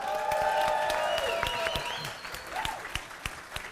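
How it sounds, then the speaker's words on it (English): A podcast studio audience applauds, dense clapping at full strength at first, then thinning out to a few scattered claps at the end. "Give yourself a round of applause."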